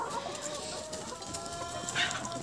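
Chickens, including Cochin hens, cluck on a small farm with ducks and turkeys, a soft continuous murmur of fowl with a brief brighter squawk near the end, all at moderate distance.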